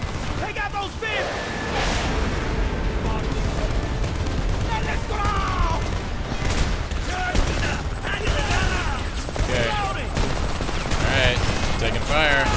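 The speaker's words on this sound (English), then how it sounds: "I'm under heavy fire." Dense, continuous gunfire and explosions in the video game Homefront, loud and sustained throughout, with a voice talking over the combat noise.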